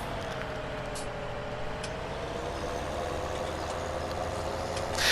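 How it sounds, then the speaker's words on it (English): A 200 horsepower tractor in Farming Simulator 17 runs with a steady low diesel drone and a slight rise in revs, close and continuous with no talk. "200 horsepower tractor"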